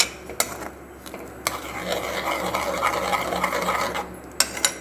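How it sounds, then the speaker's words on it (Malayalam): A spoon stirs turmeric, chili powder and jaggery into a curry in a pan, scraping and rasping steadily up close, with sharp metallic clinks at the start and end. "ഇതൊക്കെ ഇട്ടൊന്ന് മിക്സ് ചെയ്യുക"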